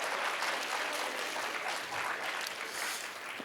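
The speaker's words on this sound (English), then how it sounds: "Give them another round of applause." An audience at a school writers' week event gives another round of applause, a thick, continuous wash of clapping from a sizable crowd throughout the few seconds.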